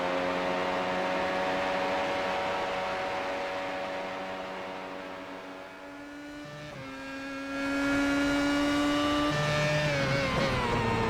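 A McLaren F1 car engine in the iRacing simulator at Road America drones steadily at high revs, shifting pitch in a few distinct steps as gears change, loud and continuous with no voices.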